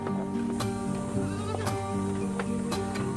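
On a farm, a goat bleats repeatedly in harmonic wavering cries that overlap with sharp clattering sounds, fairly close and steady.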